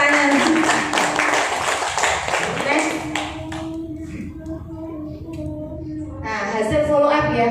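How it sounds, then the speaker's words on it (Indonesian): An audience at a business seminar in Surabaya claps loudly and densely for about three seconds, then the clapping fades and someone speaks. "Tepuk tangan."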